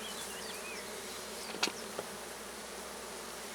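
A steady, faint hum of many honeybees swarming out of an opened Layens divisible hive, a continuous buzzing drone with a couple of brief knocks partway through.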